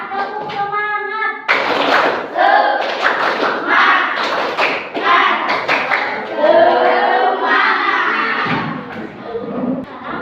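A fifth-grade class performs a rhythmic group clapping ice-breaker, loud patterned claps and hand slaps in bursts, with children's voices chanting along throughout.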